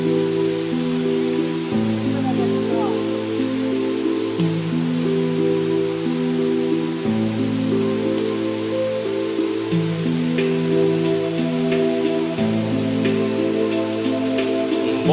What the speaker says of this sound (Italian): Si sente il fruscio della cascata